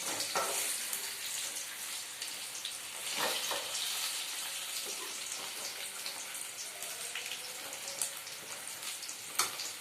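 Eggplant (brinjal) pieces sizzling steadily in hot oil in a pan, a close, continuous frying crackle with occasional sharper pops and stirring scrapes.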